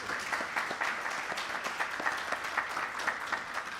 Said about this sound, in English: I think they all deserve a wonderful round of applause.